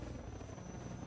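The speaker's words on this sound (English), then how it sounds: "Combine attack helicopter." Combine attack helicopter in the video game Half-Life 2, a steady loud rotor drone with a thin high whine, brief and continuous.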